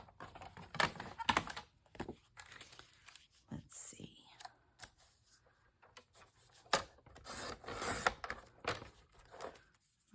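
Paper for a handmade birthday card being trimmed, with soft sliding, rasping cuts and light clicks spread across the stretch, up close and fairly quiet, with some breathy low voice mixed in.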